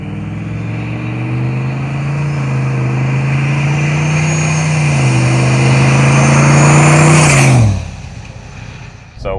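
A turbocharged 8.1 liter Vortec big block V8 with a large S400 turbo holds a loud, steady, close rev that climbs slowly before abruptly dropping off near the end.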